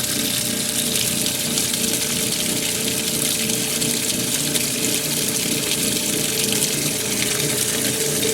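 A washing machine takes in water during a wash session, giving a steady, loud rushing and gushing of inflow that holds unbroken throughout, with no talk over it.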